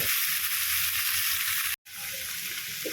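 Half-boiled mutton is stirred into fried onions in a pan, giving a steady close sizzle and hiss of frying that cuts out for a split second, then resumes slightly quieter.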